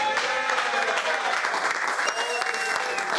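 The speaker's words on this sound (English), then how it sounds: "Let's have a round of applause for Pete Davidson." A studio audience gives a round of applause for Pete Davidson, a sustained, bright crowd clapping with scattered cheers and whoops mixed in, steady throughout at moderate level.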